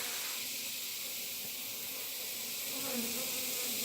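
Honeybees buzz steadily and continuously throughout a beehive inspection, a dense, close insect drone with a faint hiss and no talking.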